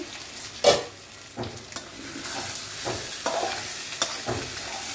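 Pork curry sizzles in a pan while being stirred, a close, moderate frying hiss with distinct scraping strokes of a spoon recurring every second or so.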